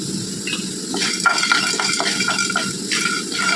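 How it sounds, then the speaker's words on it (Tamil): A handful of peanuts dry-roasting in a pan for green bean poriyal, with a steady frying hiss under repeated scraping and rattling strokes of a spoon or spatula against the pan. "ஒரு கைப்பிடி வேர்க்கடலையை வறுத்துக்கலாம்."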